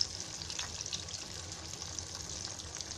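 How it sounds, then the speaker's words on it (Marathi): Steady, fairly quiet hiss of salmon (rawas) fish pieces deep frying in oil, a continuous close bubbling crackle with no talking. "आता अजून 2-3 तुकडे राहिले आहे, ते असे सगळे तळून घ्यायचे."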